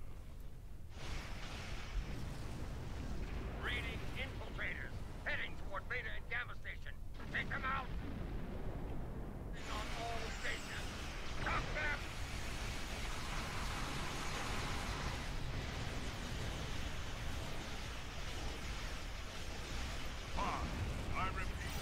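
Torpedoes fired from a Jem'Hadar heavy strike wing escort in the space game Star Trek Online: heavy booming weapon blasts and a continuous roaring rumble, with someone talking over it.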